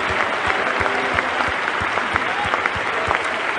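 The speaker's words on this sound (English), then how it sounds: "Clap your hands. Let's give God praise." A church congregation clapping hands in praise, a dense burst of applause with a steady rhythmic beat, loud and close, with faint voices mixed into the crowd noise.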